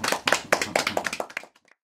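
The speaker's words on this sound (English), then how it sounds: "Let's clap." Brief hand clapping at a Schema Festival gathering, roughly a dozen quick close claps from a small group that speed up and then trail off into silence.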